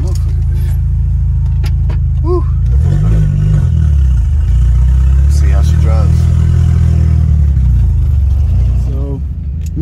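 A car engine runs after a turbo hose repair with leak sealant, idling with a deep, steady rumble and brief revs, close by, while someone talks over it.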